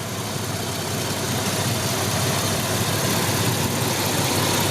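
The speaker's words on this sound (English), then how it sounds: "It's a good sounding motor." Steady, mid-pitched engine drone from a 1998 Ford Explorer with the 4.0 V6, heard up close with a dense exhaust rumble holding at a fairly even level throughout.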